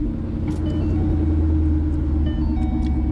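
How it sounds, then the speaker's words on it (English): A warmed-up Ford Mustang GT 5.0 with a ghost cam and Lund Racing tune idles after starting, a loud, close, lumpy low rumble with an uneven, loping pulse that holds steady throughout. "let's go ahead and start up the car."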